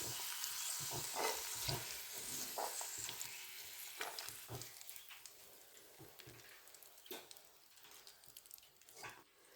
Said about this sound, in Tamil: பாருங்கள் எப்படி காஜு பிளம்ஸ் வந்து பொரிச்சு எடுத்துருக்காங்க